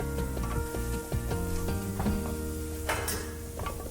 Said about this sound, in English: let this saute together until the onion is nice and translucent and the veggies are